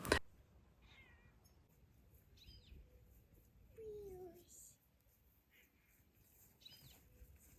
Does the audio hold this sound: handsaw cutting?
no